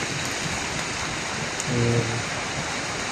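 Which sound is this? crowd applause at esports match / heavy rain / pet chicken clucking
heavy rain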